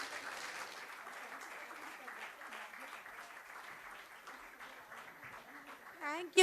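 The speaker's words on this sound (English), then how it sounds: "Can we hear a big round of applause for him, everyone?" An audience at a talk applauds with steady, moderately loud clapping that continues for several seconds, then swells at the end.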